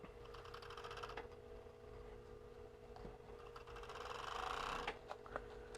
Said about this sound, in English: I hate when the serger gets stuck under itself